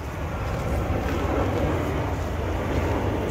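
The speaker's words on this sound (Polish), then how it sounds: "Słyszycie pewnie samolot." An airplane flying low over a garden near an airport in San Diego, California, a steady, loud, broad roar that fills the whole moment without voices.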